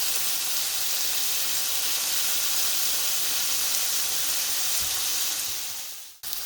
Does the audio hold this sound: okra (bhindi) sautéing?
yes